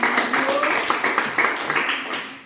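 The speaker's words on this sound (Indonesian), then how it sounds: "Tepuk tangan buat kelompok 4" A classroom group claps for group 4 in a series of quick, bunched bursts of hand claps, fairly close and moderately loud, with a few voices mixed in.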